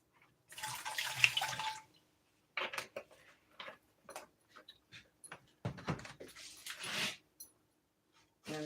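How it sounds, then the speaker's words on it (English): Vinegar, plain white or apple cider from a large jug, poured into a container; a steady splashing stream runs for over a second, then breaks into shorter glugs and splashes, close and fairly loud. "So we're going to put a little vinegar in there."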